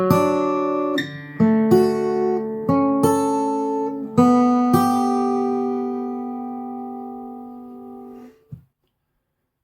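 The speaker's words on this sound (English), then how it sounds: "And I'll play it one note at a time so you can hear where they're coming from." Guitar picking out a measure of Randy Newman's "When I'm Gone" one note at a time, about eight separate plucked notes ringing and overlapping in an unhurried rhythm, close and clear, then a soft final touch before silence.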